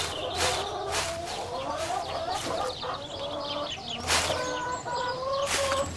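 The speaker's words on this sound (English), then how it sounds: "Just keep a lookout for our silly hens." Hens on a farm clucking and squawking nearby in a busy overlapping chatter, with several sharp louder calls and a little wing flapping, fairly close with no talk over them.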